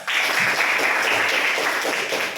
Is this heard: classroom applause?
yes